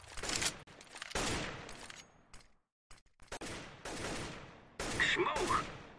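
A decoy grenade in Counter-Strike: Global Offensive mimics gunfire with loud bursts of rapid shots separated by short gaps, close and harsh.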